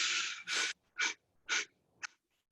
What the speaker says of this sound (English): coming in, breathing in